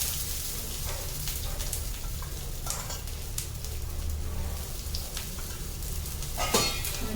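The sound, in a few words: thalipeeth frying in oil in a pan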